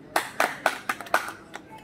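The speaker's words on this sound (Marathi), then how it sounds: "टाळ्या वाजवा" A small group claps hands in a short burst of about six sharp, evenly spaced claps that thin out toward the end, close by and fairly loud, with no talk over them.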